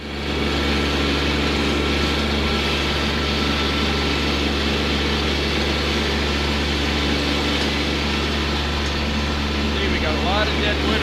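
Kubota B2601 compact tractor diesel engine starting and settling into a steady, loud, even running drone close by, with faint voice underneath.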